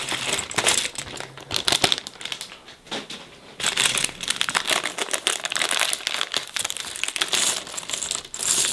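Plastic bag from a bonsai building kit crinkling and rustling, holding fairly large stones, with bursts of crackling handling noise and small clinks throughout, close and moderately loud.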